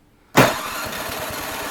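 A Yard Machines snowblower engine, choked and under repair, catches abruptly after a quiet moment and keeps running with a close, steady, chugging idle.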